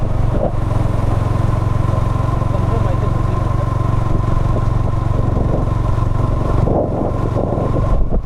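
A motorcycle rides along a misty road, its engine humming steadily and close with wind rumble and clatter throughout, a short louder burst near the end.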